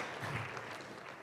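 Brief, faint audience clapping at an arts showcase after a humorous poem about a dinosaur, a short soft patter of hands heard from a distance.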